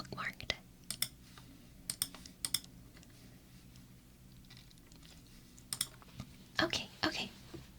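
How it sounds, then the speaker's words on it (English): Someone types on a computer keyboard in short, close bursts of soft clicking with long pauses between them, while a whispering voice is heard in a hushed, quiet room. "This one is online, so I will type this one out."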